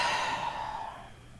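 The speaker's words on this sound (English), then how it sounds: "Nice breath." A single deep, slow exhale during a yoga breathing session, close and breathy, fading gradually to quiet with no talking.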